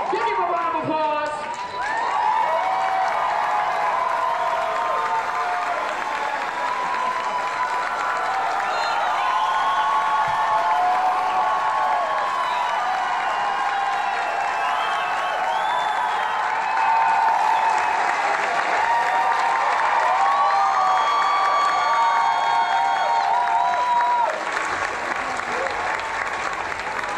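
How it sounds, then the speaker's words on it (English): An audience applauds at a child drag event after a win, a sustained, dense burst of clapping with cheering voices mixed in, continuing for the whole stretch. "Give him a round of applause."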